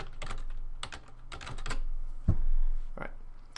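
Keys clacking on a computer keyboard while entering data into a Google spreadsheet, a few quick bursts of close typing with short pauses and one sharper thump near the middle, no talking.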